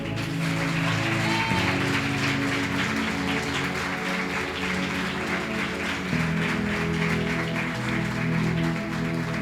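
A church congregation claps and applauds during a sermon, a continuous dense wash of clapping under sustained music or organ tones, steady and full throughout.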